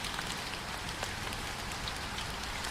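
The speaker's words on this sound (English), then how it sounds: "You can already hear the rain sounds different." Steady rainfall in American Truck Simulator, a dense, even hiss of drops pattering on a surface that holds constant throughout with no voices.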